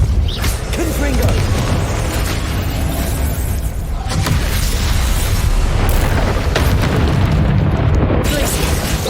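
Confringo fire-blast spells explode repeatedly in the Hogwarts Legacy video game, dense booming bursts layered with combat clatter and a voice calling out over the continuous loud din.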